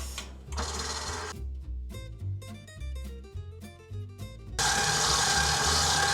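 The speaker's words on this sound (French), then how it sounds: "Et je vais fouetter ça jusqu'à ce que le mélange blanchisse." Eggs whisked in a bowl until the mixture turns pale, for an apple cake: bursts of fast, dense scraping and whirring at the start and end, with a stretch of tonal musical notes in between.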